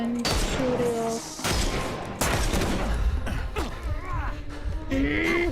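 Gunfire in a Sherlock Holmes video game crackles in several bursts of sharp shots, mixed with game sound effects and tonal cues, moderately loud and near.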